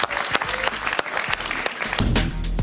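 A studio audience applauds a female guest on a Spanish-language evening talk show, dense steady clapping close up that swells louder toward the end.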